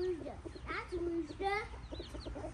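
Chicken or rooster clucking in short, bright calls at close range, with other background sounds and faint voices around it.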